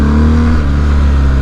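A BMW R 1250 GS motorcycle engine revs loudly and close, a steady deep throbbing roar with strong low-end rumble that runs through the whole moment, with no talking.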